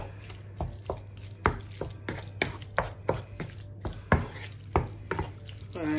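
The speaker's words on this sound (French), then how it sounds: "On mélange." Cheese being stirred into a warm mixture in a pan with the heat turned off, soft repeated scraping and tapping strokes at an irregular pace against a low steady hum, close and fairly quiet.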